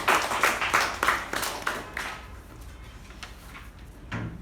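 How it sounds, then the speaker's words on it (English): A small Toastmasters meeting group gives a round of applause for a speaker, a short burst of individual claps that thins out and fades after a couple of seconds, heard fairly close. "A round of applause to Toastmaster Apoorva."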